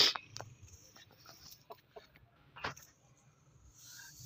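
Chickens clucking in a coop: soft, scattered clucks and short calls in a quiet space, with one sharper squawk partway through and no one talking.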